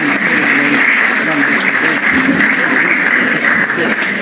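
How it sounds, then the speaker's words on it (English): Dense, sustained audience applause fills a live stage show at a fame talent event, a loud, steady wash of many hands clapping with some cheering mixed in. "Give him another big round of applause."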